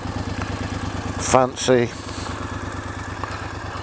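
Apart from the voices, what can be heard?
Triumph Scrambler motorcycle engine idling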